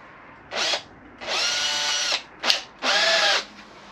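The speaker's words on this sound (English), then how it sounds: "I'm going to use a very small drill just to get it started" A small power drill bit starts a pilot hole in a trailer bar, whirring in four short bursts of varying length, spinning up and stopping, close and loud with quiet pauses between.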